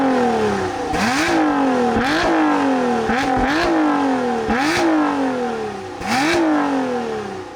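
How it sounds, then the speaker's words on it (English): A Toyota Camry V6 engine in a Lotus Emira revs repeatedly, about six sharp climbs in pitch each dropping back, loud and close with no talking. "Take a listen to the Camry V6 revving in the Emira."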